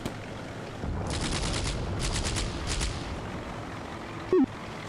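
Rapid bursts of small-arms gunfire from soldiers in the Combat Mission: Beyond Overlord war game, several rattling volleys over a steady rumbling battlefield background, followed by a short electronic blip.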